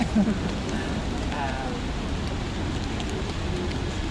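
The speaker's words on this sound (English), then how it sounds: "the rain is making it hard to do anything." Steady rain falls at an outdoor protest rally, a dense, even patter and hiss that runs loud and unbroken throughout, with a faint voice briefly in the background.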